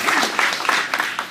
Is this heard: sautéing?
no